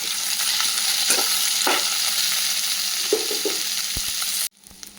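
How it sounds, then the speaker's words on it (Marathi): Onion and red chillies fry in hot oil with a steady, close sizzle and a few stirring scrapes, then the sound cuts off abruptly near the end. "तेलामध्ये कांदा आणि लाल मिरच्या चांगला फ्राय करून घ्यायचा"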